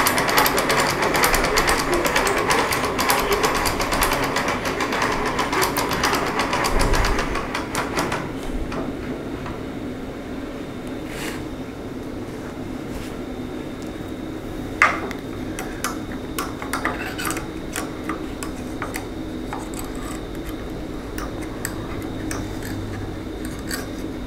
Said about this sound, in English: we'll wind up the spring.